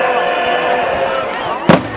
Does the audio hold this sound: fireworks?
yes